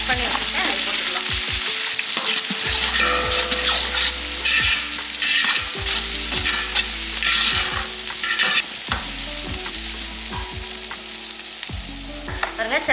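Half a kilo of chopped small onions fry loudly in hot oil for a large batch of mutton kulambu, a steady dense sizzle broken by repeated scraping stirs and clinks of a ladle against the pot, with no talk.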